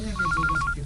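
A cellphone rings with a repeating electronic two-tone trill, several quick warbling bursts in a row, close and clear over a low background hum.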